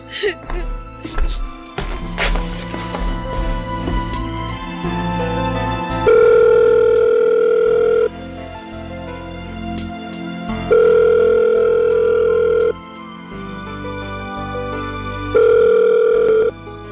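A cellphone call tone sounds as a sustained electronic beep held for about two seconds, then silent, repeating three times loudly and close, after a cluttered stretch of clatter and movement at the start.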